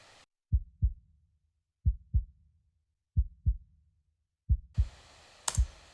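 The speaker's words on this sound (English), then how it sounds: "So what we're actually getting is like a sub kick sound." Deep, punchy compressed sub kick drum hits in pairs, repeating four times with short decaying booms, followed by a burst of noise near the end.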